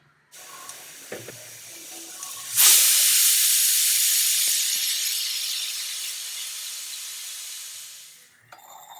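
A pressure cooker cooking black urad dal releases steam in a loud, sustained hiss that starts abruptly after a few soft clicks, then slowly fades and cuts off, heard close up with no talking.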